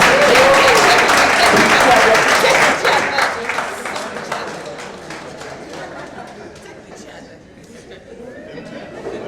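A crowd at a town planner program event applauds a guest walking to the high table, the clapping loud at first and then fading out, with chatter and some laughter mixed in.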